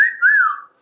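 A pet gives a single short whistle, clear and close, bending gently up and then down in pitch before fading into silence.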